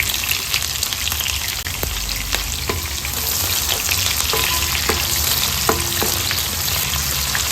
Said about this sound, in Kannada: ಈರುಳ್ಳಿ ಚೆಂದ ಫ್ರೈ ಆಗಬೇಕು.